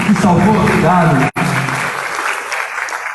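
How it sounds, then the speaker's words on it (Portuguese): Church congregation applauding at a Brazilian worship service, a steady wash of clapping that thins toward the end, with voices mixed in underneath and a brief dropout partway through. "Podemos aplaudir a vida do nosso irmão Robson aqui, que salvou"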